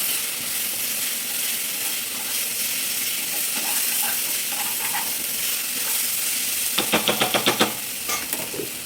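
Tender tamarind leaves with chili powder sizzle steadily in a hot pan as they are stirred, with a constant frying hiss and a quick run of metallic scraping taps near the end.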